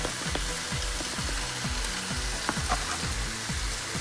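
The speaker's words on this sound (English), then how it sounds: "You see the sizzle of the pan." A quick flash sauté sizzles steadily in a hot pan during meal prep, with a dense, even frying hiss and a repeating low scrape as the food is stirred.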